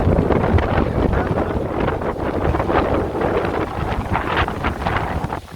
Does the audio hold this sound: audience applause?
no